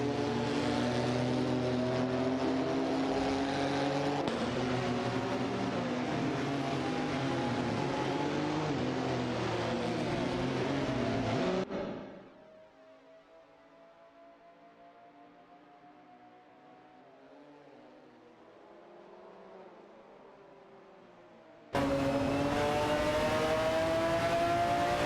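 Race cars in an AI racing simulation, with high, whining engines droning loudly for about twelve seconds, dropping to a faint, thinner engine tone for ten seconds, then surging back loud.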